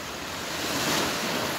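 Ocean waves wash onto a shore at night in a steady, enveloping roar of surf that swells slightly partway through, with a touch of wind noise and no voices.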